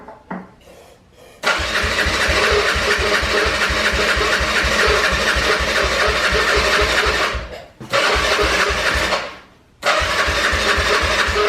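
An ATV engine in a garage cranks steadily with a fast, even rhythmic chugging. It stops briefly twice, then cranks again, loud and close, with no voices.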